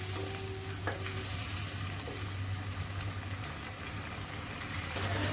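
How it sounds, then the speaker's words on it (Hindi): Cashew paste masala fries steadily in oil for a chicken Mughlai handi, giving a continuous broadband sizzle with a low hum underneath and a few faint scrapes of stirring. "अब इसको दोबारा से भूनना है जब तक कि इसका ऑयल जो है वो सेपरेट नहीं हो जाता।"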